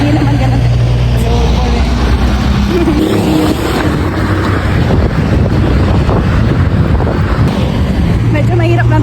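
Wind buffets the microphone constantly along a busy coastal road, with passing vehicles rumbling underneath and a voice talking over the roar throughout.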